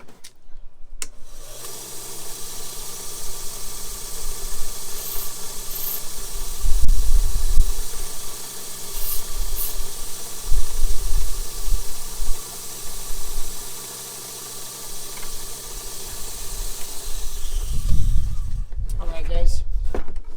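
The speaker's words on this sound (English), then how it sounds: "I'm going to flip it over and just kind of blend this in a little bit on the slack belt" A belt grinder runs a 120 grit belt while a knife is blended on the slack belt near the bolster. Steady, close hissing drone with tonal whine and brief louder grinding contact bursts, starting and stopping abruptly.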